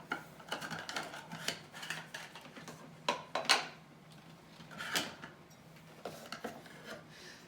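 Plastic jar lids pulled from storage for raw milk jars, scattered light clacks, rubs and rattles at close range, quiet and irregular with short pauses between handling noises.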